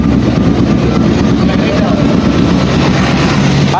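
A small engine runs steadily right after its carburetor was checked, a close, loud, continuous rumble with no break.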